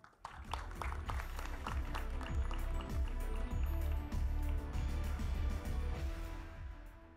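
Audience applause at a film trailer launch event for a co-producer, a sustained burst of many hands clapping that swells and fades, moderately loud in a large hall.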